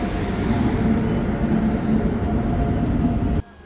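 A goods train passes on a railway loop line between Chhattisgarh and Madhya Pradesh, heard from a halted passenger train as a loud, steady rolling rumble that cuts off abruptly near the end.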